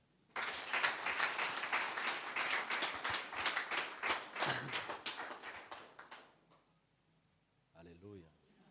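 A crowd claps at a church wedding thanksgiving, with dense, even applause starting abruptly and lasting about six seconds before fading out. A brief voice follows near the end.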